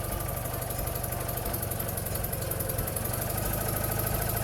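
A Neval Russian sidecar motorcycle engine idles steadily, its low, even mechanical chug running without break at close range, with no voices over it.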